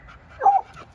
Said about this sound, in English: This is a Jeep dog.